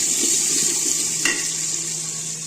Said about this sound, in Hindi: सबसे पहले डाल दिया तेज पत्ता, प्याज और खड़े मसाले संग प्याज डाल दिया।